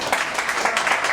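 A short burst of loud, enthusiastic audience clapping fills the whole moment, dense and continuous with no talk over it.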